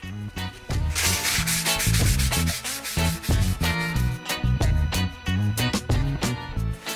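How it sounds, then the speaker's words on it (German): Steady back-and-forth scratching of fine sandpaper rubbed by hand over a rustic oak tabletop, close and continuous with a brisk, even rhythm. "deswegen habe ich jetzt hier noch ein ganz feines Schleifpapier und mit dem überarbeite ich den Tisch jetzt nochmal komplett"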